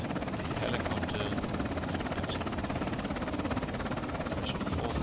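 A helicopter in the military video game Afghanistan '11 gives a continuous, loud, rhythmic rotor thump and engine drone that runs unbroken throughout.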